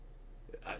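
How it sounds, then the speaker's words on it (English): A man burps once, a short, soft, close belch after a quiet pause, with no talk over it. "God, excuse me. Burps."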